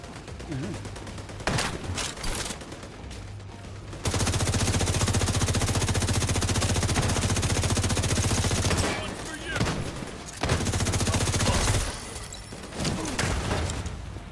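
Rapid automatic gunfire in a shooter video game, with bursts that sharply stop and start and a long sustained volley in the middle, loud in the mix.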